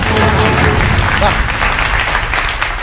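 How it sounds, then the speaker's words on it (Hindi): An audience at a patriotic poetry recitation about Subhash Chandra Bose breaks into steady, close applause that fills the short moment, with many hands clapping together at an even level. "एक बार आपकी तालियों का प्यार मुझ तक पहुंच जाए।"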